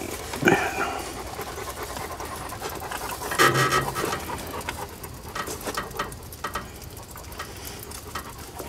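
A duck-hunting dog pants close by in steady, rapid, breathy rhythm for several seconds, with a few louder snorts and shuffling mixed in and no talking.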